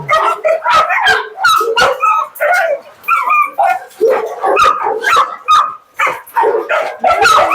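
Several dogs at an animal property, including Dachshunds and a Dalmatian, bark and yip in a dense, overlapping chorus close by, with whimpering mixed among rapid bursts.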